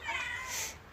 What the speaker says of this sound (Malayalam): പൂച്ചാണ്ടികളൊക്കെ മീനൊക്കെ തിന്നുകൊണ്ടിരിക്കുക